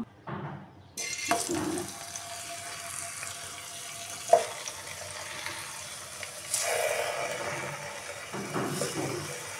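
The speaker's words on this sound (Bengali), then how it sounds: "এই মিষ্টি কুমড়োগুলো আমি একদম কম হিটে ভাজে নেব।" Salted pumpkin pieces go into a wok over low heat, setting off a gentle steady sizzle with a few clinks and soft shuffling sounds as they settle in the oil.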